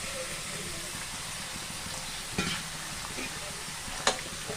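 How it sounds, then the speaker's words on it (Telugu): Chicken masala frying in hot oil in a pan, a constant bright sizzle with a couple of sharp clacks from a stirring spoon, close by while a voice talks now and then. "ఈ చికెన్ మసాలా అక్కడనే వేసేద్దాం"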